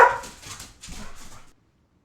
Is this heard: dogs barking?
yes